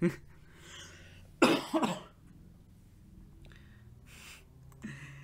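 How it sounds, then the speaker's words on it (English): A loud burst of harsh coughing, two or three quick hacks close together, then quieter throat sounds and breathy noises in an otherwise quiet space. "it's so bad, I'm coughing."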